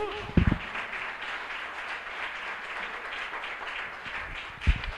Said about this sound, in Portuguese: Sua melhor salva de palmas ao Senhor Jesus.